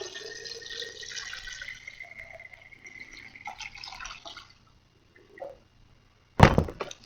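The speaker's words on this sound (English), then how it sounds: "now what I'm going to do is I'm going to fill it back up with my filtered water" Filtered water pours into a jar to refill it, a near, thin trickling stream that fades out, followed by a pause and a sharp thunk near the end.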